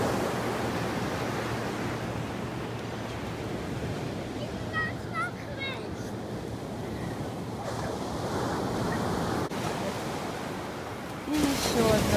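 Atlantic Ocean surf and wind at Zandvoort beach in the Netherlands, a steady, broad wash of breaking waves with gusting wind, continuous and fairly loud throughout with no talking.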